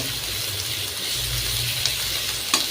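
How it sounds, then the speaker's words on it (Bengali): Chopped onion frying in mustard oil in a wok makes a low, continuous sizzle with faint watery bubbling and a couple of brief clinks or stirs near the end, heard alone without talk. "কড়াইয়ে তেল সরিষার তেল দিয়ে তারপর পেঁয়াজ কুচি দিয়ে দিয়েছিলাম"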